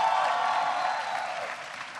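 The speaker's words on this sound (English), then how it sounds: "Give them all a big round of applause." An audience applauds steadily at a public law enforcement event held at a Salvation Army Ray Kroc Center, a dense, sustained clapping that stays fairly loud and fades slightly toward the end, with no talk over it.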